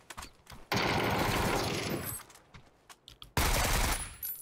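Rapid automatic gunfire from a battle royale shooter on the Rondo map, two loud, dense bursts lasting over a second each, separated by a quieter stretch of scattered shots and rustling, with no voices over it.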